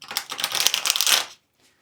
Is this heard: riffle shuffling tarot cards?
yes